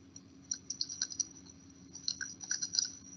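Someone types on a computer keyboard in quick, irregular bursts of light clicks, close and fairly quiet against a still background.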